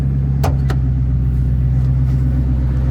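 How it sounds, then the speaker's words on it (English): The V10 engine of a 2004 Ford Excursion idles with a steady low hum, even and continuous, with a couple of faint clicks near the start. "Motor sounds good. Got a nice little hum to it."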